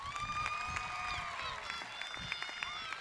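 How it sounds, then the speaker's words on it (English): A crowd at an in-person high school graduation claps and cheers after a student's performance, with scattered claps and high excited voices and whoops spread across the crowd at moderate loudness. "Another round of applause for Maddie"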